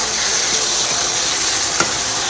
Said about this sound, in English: It's frying up lovely.